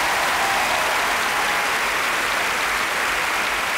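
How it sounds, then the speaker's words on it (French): A live audience at a French stand-up comedy show applauds a man named Frédéric, with a steady, full-bodied wash of clapping from many hands that stays at an even level for several seconds. "Je vous demande à tous d'applaudir Frédéric."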